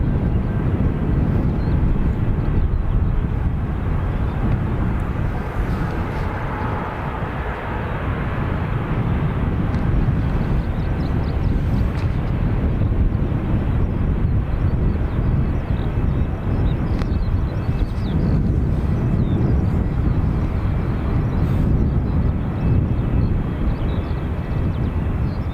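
A jet airliner departs from Dublin Airport, its engine roar broad and steady at a strong level throughout, buffeted by some wind noise with no voices.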